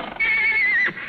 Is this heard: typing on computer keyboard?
no